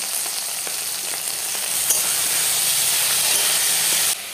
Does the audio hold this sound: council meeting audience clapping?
no